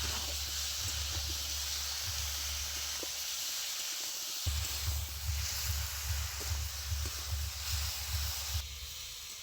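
Chopped tomato goes into a hot frying pan over drumstick pieces and green chili, giving a steady close sizzle and hiss with brief stirring scrapes, no talk.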